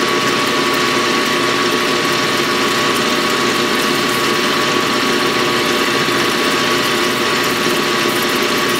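A small lathe running at 800 RPM parting off 7075-T651 aluminium, a steady loud mechanical drone with a constant whine and cutting rumble throughout, no voices.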